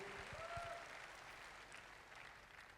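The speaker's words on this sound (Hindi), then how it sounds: "बजा सकते हैं आप अपने लिए सारे लोग जोरदार तालियां" A crowd at a Forever company success day event in Lucknow applauds, a steady wash of clapping heard from a distance for about three seconds, with a faint voice underneath at the start.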